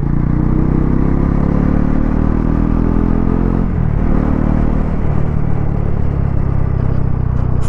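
A 2024 Bajaj Pulsar NS400Z motorcycle in sports mode pulls hard and loud, its engine note climbing through gears with a brief dip near the middle as it keeps accelerating.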